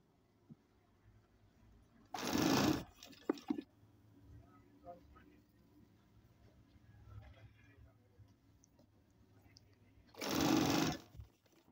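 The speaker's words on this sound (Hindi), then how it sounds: "तो पैर की सिलाई लगाएंगे" A sewing machine stitches fabric sleeves in two loud, dense bursts several seconds apart, with quiet handling sounds and faint talk in between.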